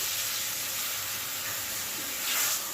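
Fish pieces sizzle in a pan of masala curry for a tamarind fish stew, a steady close hiss and crackle with a brief rise in spitting toward the end, no voices.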